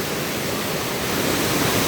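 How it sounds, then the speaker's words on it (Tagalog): A strong river current rushes under a footbridge as a loud, unbroken hiss and roar of moving water, filling the whole moment with no other sound. "So, yung current ng tubig, ayan po. Strong current po talaga siya."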